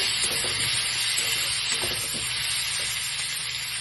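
Chopped ripe tomatoes are stirred into a frying rohu fish curry. A loud, continuous hiss and sizzle carries soft, irregular stirring scrapes throughout, with no talking.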